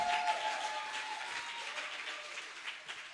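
A church congregation at a Sunday service applauding to acclaim the Lord, a steady wash of clapping from many hands filling the room, moderately loud and sustained with no talk.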